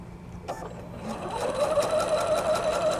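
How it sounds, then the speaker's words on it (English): A sewing machine stitches a quilt basket seam, starting up and settling into a steady rapid needle rhythm close by. "and sew off the piece."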